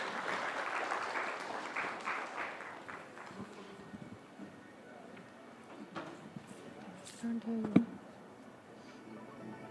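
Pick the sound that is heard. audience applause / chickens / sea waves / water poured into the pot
audience applause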